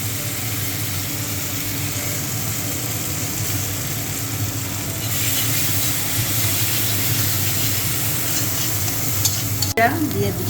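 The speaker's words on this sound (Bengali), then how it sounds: "আমি ভেজে নেব।" Fish curry ingredients frying in a pan give a loud, continuous sizzle under steady stirring, ending in a sharp scrape near the close.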